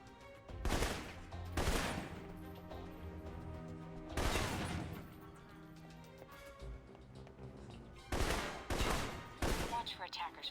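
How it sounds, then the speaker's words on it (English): Assault rifle shots in the spy action video game Alpha Protocol, fired in separate loud bursts of a few rounds with quieter gaps of game ambience between them. "For long-range encounters, the assault rifle's the key."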